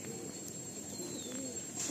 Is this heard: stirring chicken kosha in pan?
no